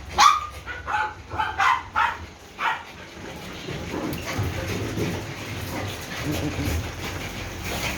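Several sharp dog barks in quick succession at the start, then fading into a steady background hum with faint rustling.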